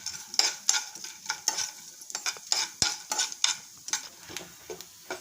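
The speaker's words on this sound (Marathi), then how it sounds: "आता आपण बदाम तळून घेऊया तुपावरती।" Almonds frying in ghee, a light sizzle broken by rhythmic stirring strokes and scraping of the spoon in the pan, close and fairly soft with no voices.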